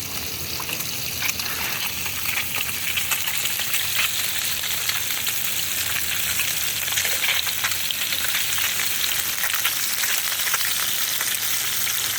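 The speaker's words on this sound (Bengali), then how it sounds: "মাছটা আমরা ভেজে নিই।" Rohu fish fries in hot oil in a pan, giving a loud, even, crackling sizzle that runs steadily throughout without any talking.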